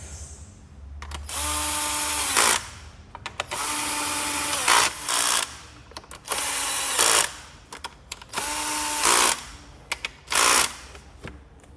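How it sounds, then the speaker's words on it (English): A small ratchet tightens the rocker cover bolts on a Chevrolet Cruze 1.8 engine, giving four close bursts of rapid clicking, each lasting a second or two, with short pauses between them. "Using a small little ratchet like this, it's pretty hard to do these up too tight."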